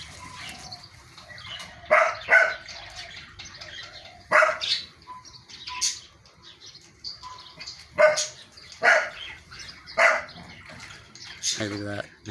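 A dog barks in a backyard: several sharp, separate barks at uneven intervals over a quiet outdoor background, with some faint voices.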